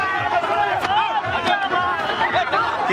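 Dense crowd at a political road show held before a Lok Sabha election nomination filing, a loud continuous babble of many voices with scattered shouts and movement, heard close and filling the whole stretch.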